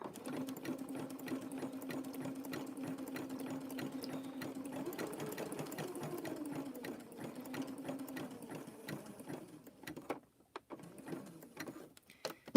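A sewing machine stitches rope and fabric in a steady rapid mechanical whir, close and moderately loud, slowing and stopping near the end with a few handling clicks.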